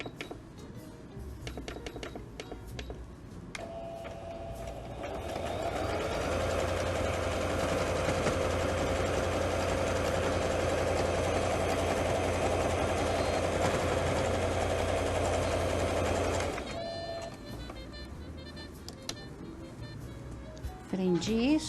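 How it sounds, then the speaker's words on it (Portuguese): A sewing machine runs a zigzag stitch along the lining of an organizer bag, a steady mechanical whir lasting about ten seconds in the middle, with someone talking before and after. "agora eu passo um zigue-zague prendendo tudo"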